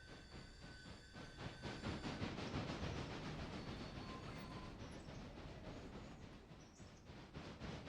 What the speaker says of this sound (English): You'll also hear that you can hear the chuffing sounds.